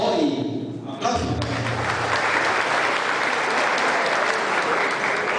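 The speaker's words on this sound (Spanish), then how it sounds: "¡Aplausos!" Crowd applause at a provincial dominoes championship in Santo Domingo, starting after a brief lull and then holding as a steady, dense wash of clapping from a large audience.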